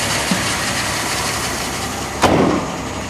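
A 1970 Oldsmobile Cutlass convertible with a two-barrel carburetor runs at a steady idle, its engine a continuous close-up drone with a brief louder burst near the end.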